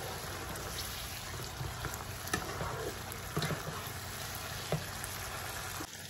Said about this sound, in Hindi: अब हम इन तमाम चीज़ों की बहुत अच्छे से भुनाई करेंगे।